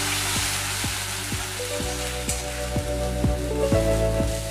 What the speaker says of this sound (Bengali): এর মধ্যে আমি এবার আদা রসুনের পেস্টটা দিয়ে দেব। তলায় যেন ধরে না যায় সেই জন্য নাড়তে থাকতে হবে।